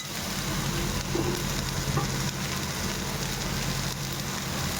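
Cashews and browned onion sautéing in a pan of oil for mushroom masala, a steady dense sizzle throughout with faint stirring, close and continuous.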